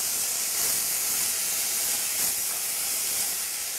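Tomatoes hit a hot pan of browned onions for a chickpea curry, releasing a loud, steady steamy sizzle and hiss that holds evenly throughout without speech.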